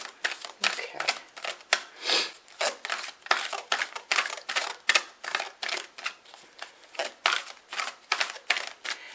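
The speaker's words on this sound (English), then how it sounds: "I swear when I be shuffling certain decks" A deck of cards is riffled and shuffled again and again in quick, papery bursts of flicking and snapping, close and fairly quiet in a calm room, with short pauses between shuffles.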